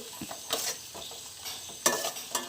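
Garlic sizzling in hot oil for a fish pickle, stirred now and then, with soft crackles, scraping clicks and a couple of louder clatters.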